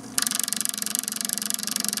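A Generac generator engine running at full throttle, a loud close buzzing drone with a rapid steady pulse after a brief quieter start.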